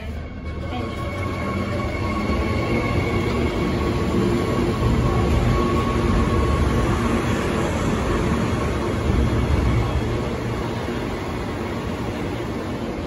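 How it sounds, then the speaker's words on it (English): A loud, continuous rumble of a passenger train rolling past close by in Central Station, with a broad roar and a faint high whine, no voices. "Ferny Grove train."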